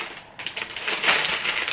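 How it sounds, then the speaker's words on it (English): A plastic homeware bag from a shopping haul crinkles and crackles as it is opened and handled, a close, busy rustle that starts after a brief quiet moment and continues throughout. "Excuse the rustling, guys, I just opened the bag."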